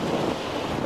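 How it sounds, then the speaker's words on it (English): Steady wind buffets the microphone beside a reservoir dam with boats on the water, giving a continuous, loud, roaring rush with no voices. "So I'm trying to hide behind a pillar to stop the wind."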